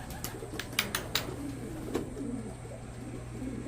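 Racing pigeons land at a club loft during a training race, with a few quick wing claps and soft flutters over a steady low hum and faint cooing.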